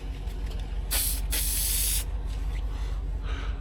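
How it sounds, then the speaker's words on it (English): A spray can hisses loudly in one long burst, a brief pause, then a second sustained spray, over steady background rumble. "Spray paint this thing here."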